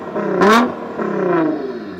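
Lexus IS250 with a 2.5 litre Toyota V6 and aftermarket exhaust revving, two rising throttle blips close by, the first sharper and louder, the second a longer sustained rev.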